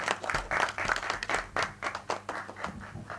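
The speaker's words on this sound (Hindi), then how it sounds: "जोरदार तालियां" Loud applause from an audience at a film trailer launch event, clapping in uneven bursts and swells as a producer is called up, close and lively with no talk.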